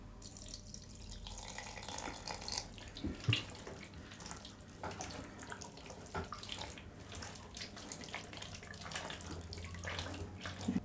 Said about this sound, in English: I'm just going to loosen it up a little bit with this water.